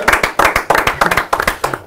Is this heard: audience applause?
yes